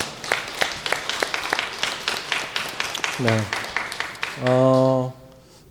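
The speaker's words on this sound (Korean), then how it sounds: "우리 이 시간 같이 박수로 서로를 격려하겠습니다" A church congregation at a New Year thanksgiving Sunday service claps in steady, close rhythm for several seconds while a voice speaks briefly in the middle and again near the end.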